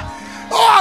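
A church congregation breaks into loud hollering and cheering at a prison-ministry service, a sudden swell of crowd voices rising after a quieter, low-level opening and then cutting off.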